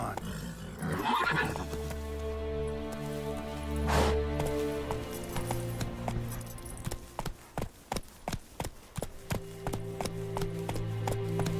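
Geralt's horse Roach in The Witcher 3 lets out a loud whinny, then a quick run of rhythmic galloping hoofbeats follows under game music, and a voice speaks briefly.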